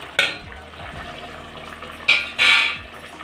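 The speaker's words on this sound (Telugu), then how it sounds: "ఇట్లా తెరలే దాంట్లో పెట్టుకున్న చేపలు వేసేద్దామండి" Dry fish drops into a boiling tamarind and tomato curry in a village-style kitchen. A short splash is followed by two more sizzling, spattering bursts over a low bubbling simmer.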